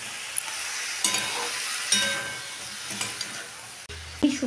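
Vegetables frying with spices in a hot pan, sizzling continuously while a spoon stirs and clinks against the pan every second or so.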